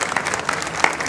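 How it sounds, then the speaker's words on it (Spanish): Brief burst of audience applause at a Spanish-language talk on translating García Márquez, fairly close and dense, lasting about a second with no talking over it. "Un aplauso, por favor."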